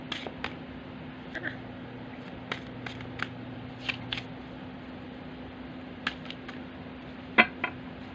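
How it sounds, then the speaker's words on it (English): Tarot cards being shuffled by hand, with scattered crisp snaps and riffles at irregular intervals against a quiet background hum, fairly close and moderately loud, with no talking. "I'm such a sloppy shuffler."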